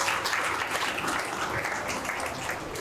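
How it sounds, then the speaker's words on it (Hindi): A crowd at an education event claps together in dense, continuous applause that holds steady and fairly loud for a few seconds, with no distinct voices on top. "इनके लिए तालियां बजाएं"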